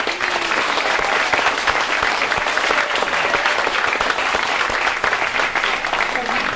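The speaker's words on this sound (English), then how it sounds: "let's give a big round of applause for our panel" An audience at a 2018 candidate forum applauds a panel with loud, dense, sustained clapping that fills the whole stretch and never lets up.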